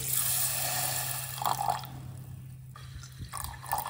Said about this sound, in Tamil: அது வேகிற அளவுக்கு தண்ணி ஊற்றிக்கலாம்.